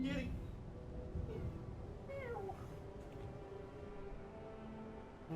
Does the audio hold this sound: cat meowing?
yes